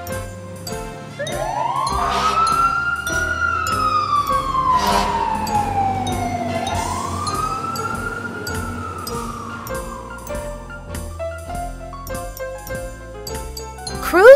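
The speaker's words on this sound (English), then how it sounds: "Fire engine." A fire engine siren glides up and down in two long wails, fairly loud, mixed with plinking, rhythmic music.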